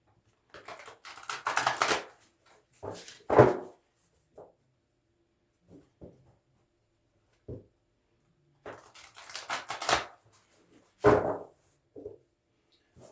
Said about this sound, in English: I'm going to shuffle these really good.